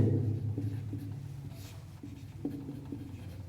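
Chalk or pen scratching out a chemical formula by hand during a Class 10 chemistry lesson on IUPAC names, a steady soft scraping with brief taps over a low hum, no voice.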